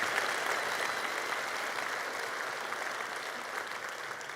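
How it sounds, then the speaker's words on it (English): Dense, steady applause from a large audience at a Stellenbosch University graduation ceremony for Military Science and Theology, sustained at even strength throughout with no voices above it. "Let's give another round of applause."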